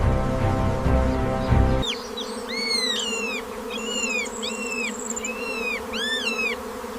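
A giant colony of swarming bees drones in a dense, continuous buzz, steady and close, with shrill animal calls rising over it after an abrupt shift from a louder rumbling passage.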